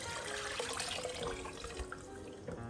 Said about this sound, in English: pour the water in right now